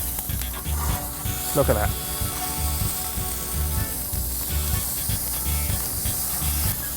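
Burgers sizzle steadily in a hot pan just after flipping, a constant hissing fry close up with a brief clatter of a spatula partway through and a short spoken comment over it.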